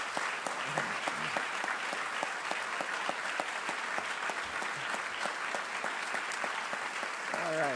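Sustained applause from an audience welcoming Santa Monica City Manager Rod Gould at the 2015 State of the City event, a dense, steady clatter of many hands clapping continuously throughout.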